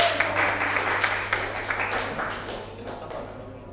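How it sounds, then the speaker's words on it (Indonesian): Classroom applause for a student group, a ragged burst of clapping from pupils that fades over a few seconds, with a steady low hum underneath. "beri tepuk tangan untuk kelompok 3 ya,"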